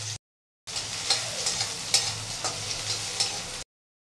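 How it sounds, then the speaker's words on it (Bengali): Vegetables frying lightly in hot oil in a pan, a steady close sizzle with occasional stirring clinks, continuing alone for about three seconds after a short quiet gap. "প্রত্যেকটা সবজি আমি এইভাবে হালকা হালকা ভেজে তুলে নিচ্ছি"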